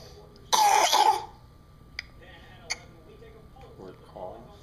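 A young child gives one loud, close cough, followed by a few faint ticks and soft sounds in a quiet room.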